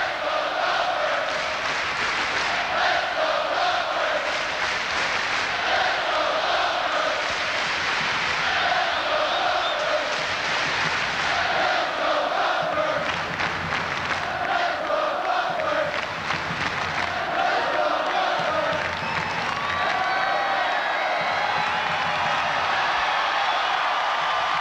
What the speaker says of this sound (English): Let's take a listen to what this crowd's doing.